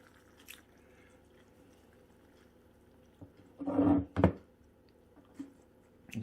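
Water from a kettle goes into a Pot Noodle Sticky Rib pot in a short, close splashing pour that lasts under a second, with a few faint knocks before and after in an otherwise quiet room.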